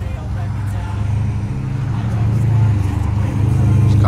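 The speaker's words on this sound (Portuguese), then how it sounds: "Os carros fazem bastante barulho aqui." Steady low roar of cars passing on a street in Harrison, New Jersey, rising and swelling as vehicles go by close, with a person talking over the traffic.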